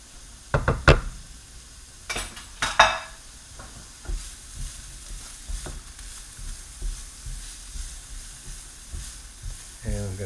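Onions hitting hot oil in a pan for lemon rice pilaf, a steady sizzle broken by sharp knocks and clatters of utensils early on, then rhythmic stirring taps.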